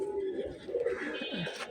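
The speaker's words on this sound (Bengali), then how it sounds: "আর এইটা হচ্ছে রাব্বানি কবুতর" A Rabbani pigeon gives a short, throaty coo up close, with faint bird chirps and loft noise around it.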